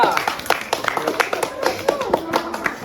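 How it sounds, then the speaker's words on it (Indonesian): A small group of students in a physical education volleyball class clap for group 2, a loose scattering of distinct, close hand claps with voices mixed in. "Ayo tepuk tangan dulu untuk kelompok 2"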